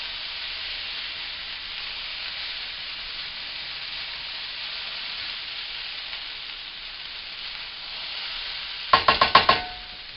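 Spam fried rice sizzles steadily in a pan with browned Spam and scrambled egg. Near the end come a few quick, loud scrapes and clanks as it is stirred and broken apart.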